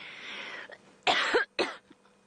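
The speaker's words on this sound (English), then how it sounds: "one of those choking moments where you actually can't get the air in to cough it out" A person who has just choked coughs hard during an open-vehicle safari drive: raspy strained breathing, then two loud, close coughing bursts, with no speech.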